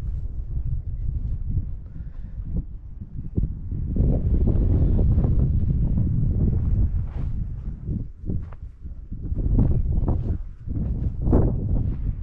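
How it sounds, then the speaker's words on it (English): Strong, gusty wind buffets the microphone at a dispersed camping spot on open prairie grassland in South Dakota's Buffalo Gap National Grasslands, with loud, continuous low rumbling that swells and dips throughout, and no voices. "It's very windy here."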